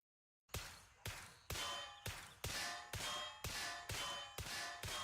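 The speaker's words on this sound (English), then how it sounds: "Isn't this that alien pistol?" An alien pistol in a video game fires nine evenly spaced, loud metallic shots after a short silence, each ringing briefly before the next, alone without talk.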